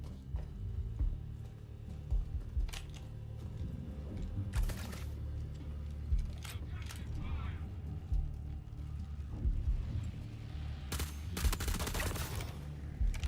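Gunfire in Star Citizen, scattered sharp shots and short bursts over a low rumbling game backdrop, some loud and close, others fainter.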